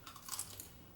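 Crunchy potato wedges being bitten, giving a brief close crunch of a few crisp crackles, quiet and alone.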